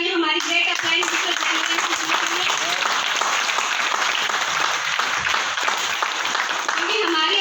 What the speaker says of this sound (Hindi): तो एक बार जोरदार तालियां हमारी ग्रेट अपलाइन मिस्टर